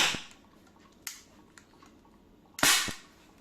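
Small hydrogen-oxygen gas bubbles ignited with a lighter go off in sharp little pops: one at the start, a softer one near the middle, then a louder double burst toward the end, with quiet between them.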